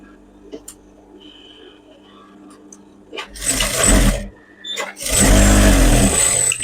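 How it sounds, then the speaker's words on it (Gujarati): A sewing machine stitches lining onto a coat made from waste fabric, two close bursts of rapid whirring after quiet handling noises, with a voice talking during the quieter moments. "ત્યાં આગળ તમારે આ અસ્તરને આવી રીતના રાખવાનું, આવી રીતના, અને એના ઉપર આમ સિલાઈ કરી નાખવાની"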